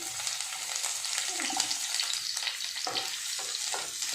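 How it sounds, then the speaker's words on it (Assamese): Long-sliced onions sizzle steadily in mustard oil in a home kitchen pan, a dense, close crackling hiss with occasional stirring scrapes throughout. "অলপমান গোল্ডেন ব্ৰাউন হোৱালৈকে ভাজি থাকিম"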